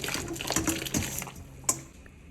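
Vegetables for a Caribbean pumpkin soup are rinsed in running water, with a steady close splashing and trickling that swells in short bursts and ends with one sharp splash.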